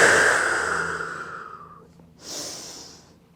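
A strong exhalation during a Pilates exercise, a long airy breath out that fades, then a second, softer breath a moment later, close and with no talking.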